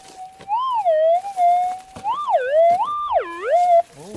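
Signal tone from a Minelab GPX gold-prospecting metal detector, a clear warbling whine that rises and falls in smooth sweeps as the coil passes over targets, fairly loud and close with no speech.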